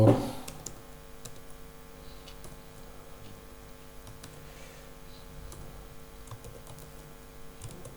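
Typing on a computer keyboard while entering text in MS Word, a steady run of quick, light key clicks close by, with no speech.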